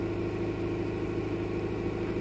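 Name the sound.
Oldsmobile Cutlass Ciera engine running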